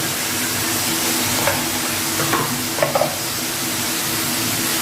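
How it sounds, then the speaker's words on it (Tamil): Small onions with salt sautéing in a pan for tomato rice, a dense close sizzle with a few brief scraping stirs near the middle. "சின்ன வெங்காயம் நல்லா வதங்கணுங்க"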